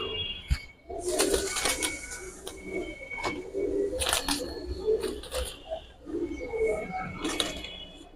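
Silver beji fighter pigeons in a loft give repeated low, throaty coos, overlapping and fairly close, with occasional light clinks and rustling from handling in the background.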